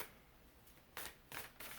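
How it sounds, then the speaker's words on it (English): Natural Enchantments Oracle card deck being shuffled by hand, close and soft, with a light rustle followed by three quick papery riffle bursts near the end. "I love the way this deck shuffles."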